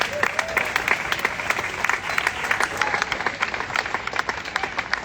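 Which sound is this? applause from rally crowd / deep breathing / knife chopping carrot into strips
applause from rally crowd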